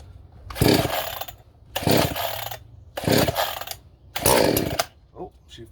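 Dereal chainsaw being started, four loud, short rasping bursts close by, each about half a second long and separated by brief silent gaps, with no talking.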